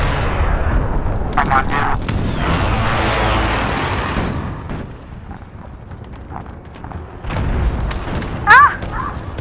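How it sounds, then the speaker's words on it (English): Airstrike and cruise missile explosions in Call of Duty Modern Warfare Ground War, heavy rumbling booms and blasts swelling over several seconds with scattered gunfire, while a player speaks briefly. "Enemy precision airstrike. Enemy cruise missile incoming."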